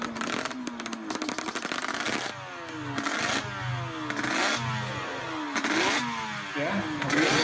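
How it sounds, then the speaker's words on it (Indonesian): A two-stroke motorcycle engine runs close by, its rattly, buzzy idle rising in several repeated revs and dropping back in a clear rhythm, loud and alone without talk. "Ya, oke, jelas ya, motor 2 tak."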